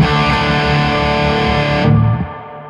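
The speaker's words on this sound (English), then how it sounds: "Then the shimmer reverbs, that is like a reverb with an octave up." A VH-X effects unit plays a dense, sustained tone through a shimmer reverb pitched an octave up. The bright upper layer cuts off while the low body swells and fades, loud and alone.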